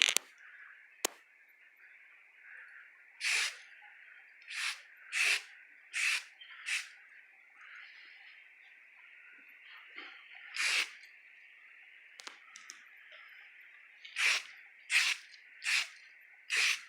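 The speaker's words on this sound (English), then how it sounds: "Give it a test spray." Short bursts of spray paint hissing from an aerosol can, a dozen or so quick puffs spaced irregularly and fairly close, with quiet gaps between them.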